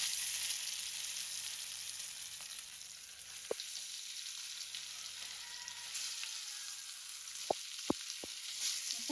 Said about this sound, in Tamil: எண்ணெய் சூடாகிடுச்சு. மீன் போடுறா?